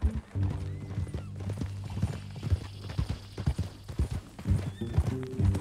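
Horse hooves clip-clopping in Red Dead Redemption, a steady rhythmic trot of hoof falls close and clear over low ambient game sound, with a faint whinny near the end.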